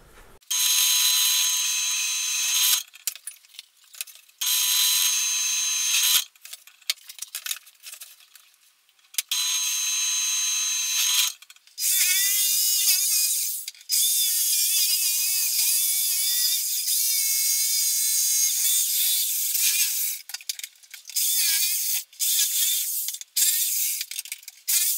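A drill press boring into a guitar body in a home workshop, running in repeated bursts of high whining, grinding noise broken by short pauses. No talk.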